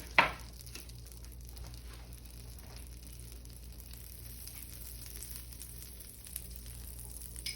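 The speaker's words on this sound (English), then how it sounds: "So I'm going in with another tablespoon of butter." Butter sizzles steadily in a hot pan while hibachi is being cooked, a soft, even crackle with a brief louder burst at the start and a few faint stirs and clinks, no voices.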